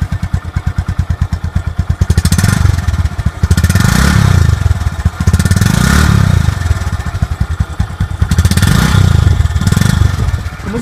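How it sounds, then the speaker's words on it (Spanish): A Honda CB110 motorcycle with a small engine thumps close by in a fast idle, and its exhaust swells in repeated revs with some mechanical clatter. No one speaks. "Y aquí les voy a dejar el sonido del escape"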